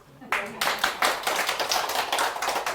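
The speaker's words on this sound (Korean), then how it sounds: "박수." A small group of people at a senior living community claps hands close by, a quick flurry of sharp claps starting abruptly and continuing for a couple of seconds.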